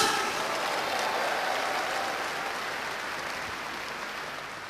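An audience at a success seminar applauds a speaker, dense continuous clapping heard alone, starting strong and slowly fading over several seconds.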